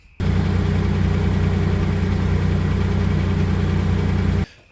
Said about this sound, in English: trying to work out this tapping noise that it's making